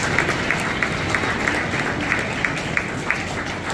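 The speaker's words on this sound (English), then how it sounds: "let's give your parents an orchestra a round of applause for their support" Audience at a middle school orchestra spring concert clapping steadily, a dense sustained wash of applause from a crowd with no pauses.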